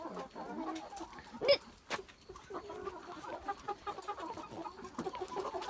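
Chickens and a rooster cluck softly in a farmyard coop, with one sharper squawk and scattered low murmuring calls, faint and close.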